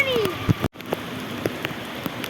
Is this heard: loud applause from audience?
no